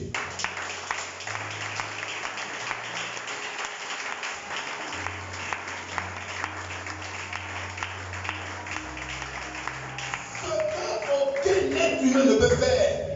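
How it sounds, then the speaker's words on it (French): A church congregation at a French-language sermon applauds and cheers for Jesus, steady clapping running throughout and swelling louder near the end, with sustained organ or keyboard tones beneath and some voices mixed in. "Mais acclamez votre Jésus."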